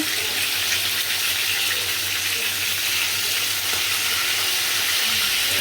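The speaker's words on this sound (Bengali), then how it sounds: "মাংসটা আমি বাজি করে নিতেছি" Chicken meat frying in a clay pot gives a steady, close sizzle with a wet, watery crackle that runs without a break.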